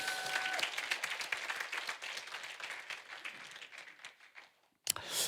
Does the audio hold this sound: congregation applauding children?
yes